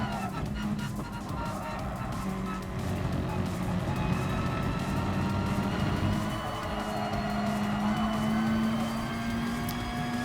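A race car engine drones steadily in Gran Turismo Sport, its pitch rising and falling slowly over a continuous roar, with a voice speaking over it.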